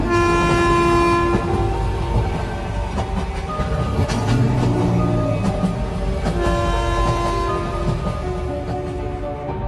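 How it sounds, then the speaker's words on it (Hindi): Cartoon train starting to move, with a loud steady horn tone over a chugging, rumbling engine and rattling carriages, close and continuous with no talking. "तभी ट्रेन शुरू हो जाती है।"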